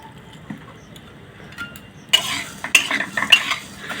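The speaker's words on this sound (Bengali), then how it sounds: "আমি দিয়ে দেব 1 চামচ ঘি, দিয়ে সিমাইটাকে ভেজে নেব" Vermicelli fries in ghee in a wok, with a quiet start and then a burst of clattering stirring and light sizzling that comes in uneven bursts, close by.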